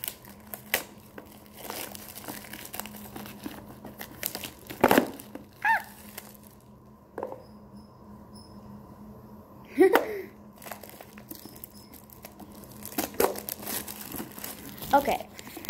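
Crinkly plastic packaging around newly bought school supplies is opened by hand, with intermittent close crackles, crumples and sharp snaps spread over the span, separated by quieter pauses.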